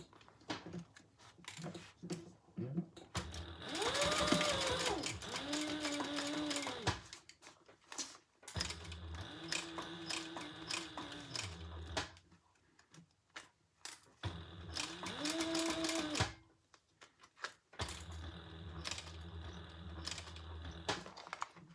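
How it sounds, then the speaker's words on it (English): A sewing machine stitches a seam on a rounded make-up bag in bursts of rapid mechanical whirring, starting and stopping several times with quiet pauses between runs. "All right, let's sew that together."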